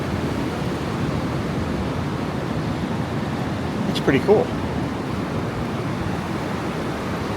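Ocean waves washing in under a beach pier, a steady broad hiss of surf that fills the space, briefly broken by a person speaking near the microphone partway through.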